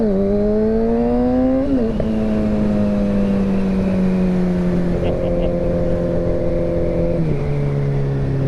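A 2017 Kawasaki ZX-6R engine on light throttle, a steady droning hum whose pitch shifts slightly as the throttle is barely touched, loud and close with wind noise.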